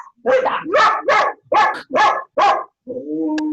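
A dog barks close and loud in a quick run of about six sharp barks, then a whining, higher yelp trails off at the end, heard over an online meeting.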